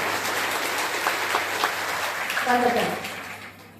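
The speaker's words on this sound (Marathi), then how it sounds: "याच्यासाठी जोरदार टाळ्या त्या दोघांना देखील वाजवल्या पाहिजे" An audience at a women's seminar claps in a sustained, fairly even round of applause, with a voice speaking over it toward the end.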